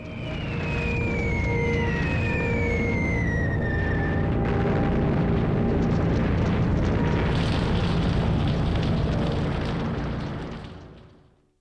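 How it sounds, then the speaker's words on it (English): Luftwaffe bombs fall on Warsaw: shrill whistles of falling bombs drop in pitch, then a long, dense, heavy roar of blasts and rumble sustains before fading out. "The Luftwaffe bombs Warsaw at will."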